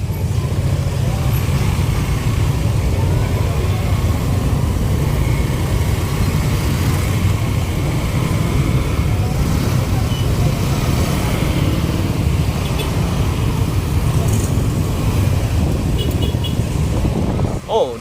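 Dense motorcycle traffic streams along a busy street in a steady, loud wash of engine drone and wind, while someone speaks over it throughout.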